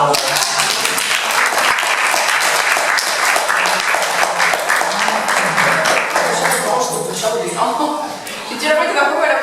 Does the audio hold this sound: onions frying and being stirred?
no